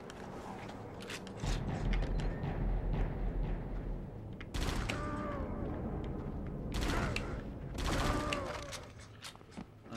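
Gunfire from a high-powered assault rifle in the video game Die Hard Vendetta: bursts of shots mixed with mechanical clanks and creaks over a steady game background, with several louder volleys toward the middle and end.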